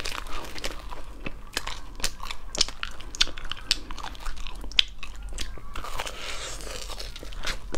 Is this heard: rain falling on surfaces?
no